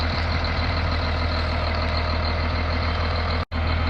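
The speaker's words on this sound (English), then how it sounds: "And here comes truck number 2." A cement truck arriving at an ICF construction site gives a steady, loud diesel engine rumble throughout, with a brief sharp break near the end and no talking.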